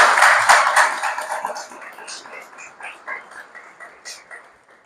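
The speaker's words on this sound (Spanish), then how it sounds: "Vamos a darle un aplauso a María Isabel" Audience applause for a guest at a missionary conference workshop, a dense burst of many hands at first that thins into scattered, fading claps over several seconds.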